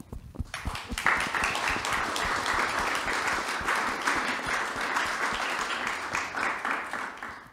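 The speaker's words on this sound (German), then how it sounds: "questo è il tuo applauso" An audience at an artist talk applauds in a sustained, dense burst of clapping that starts abruptly and holds steady for several seconds in a room.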